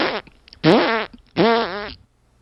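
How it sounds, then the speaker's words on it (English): Recorded fart noises played back through a FIFINE SC3 gaming audio mixer's sample pad, two long buzzy, wavering blasts with a short sputter before them, loud and close with no talk over them. "So if you want to have some fart noises or any kind of other cool, weird noises"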